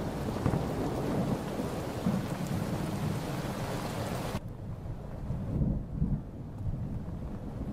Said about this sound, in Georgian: ისევ წვიმს, ისევ ქუხს